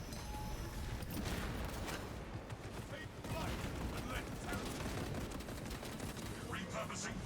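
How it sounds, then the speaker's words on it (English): Sentry guns in Warhammer 40k: Space Marine 2 fire steadily at a boss, a continuous rattle of automatic fire under dense game noise with clanking mechanisms and voices. "I've got 2 sentry guns shooting the boss"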